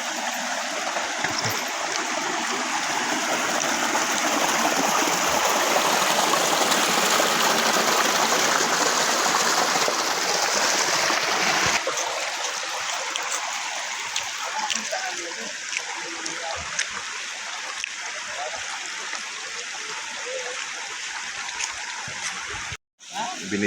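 A full river stream flowing, a loud continuous rushing wash of water that grows quieter and thinner midway, with faint voices underneath.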